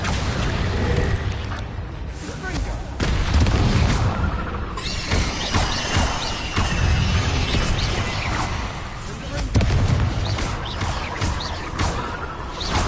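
Bombarda spell explosions in the Hogwarts Legacy video game, a dense run of loud booming blasts and crashing bursts layered over continuous battle noise for the whole stretch, with fresh impacts landing every couple of seconds.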